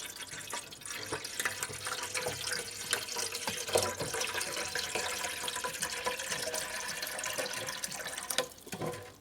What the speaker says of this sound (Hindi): इस जग में पानी डाल रहे हैं।